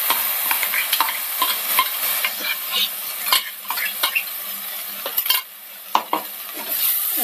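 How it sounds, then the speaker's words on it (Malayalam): Ground onion fries in a pan with roasted spice powder while a spoon stirs it, giving a steady sizzle broken by frequent scraping and clinking strokes, close and clear with no talking. "ഒന്ന് മിക്സ് ചെയ്യാം."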